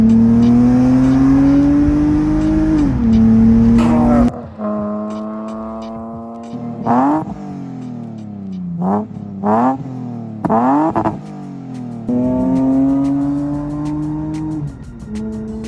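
A Lexus GS 300 with a naturally aspirated 3-liter inline-six 2JZ revs loudly nearby, its engine note rising and falling through several sharp blips and sustained pulls with no talk over it.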